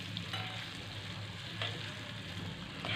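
Bitter gourd frying with garam masala as it is stirred: a close, steady sizzle with a few soft scraping strokes, no talking.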